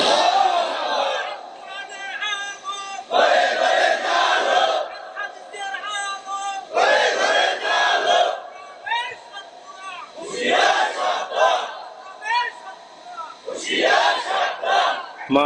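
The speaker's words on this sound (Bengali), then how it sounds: "জোরে একজনে তাকবীর দেন তো দেখি।" A gathered congregation shouts the takbir chant in loud unison bursts, several times over, with pauses between the responses where a leading voice calls out.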